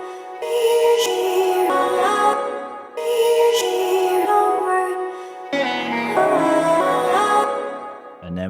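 Reversed, sliced sample played back in a Simpler device, three repeating phrases of swelling, bright tonal sound, each building and cutting off abruptly, loud and alone.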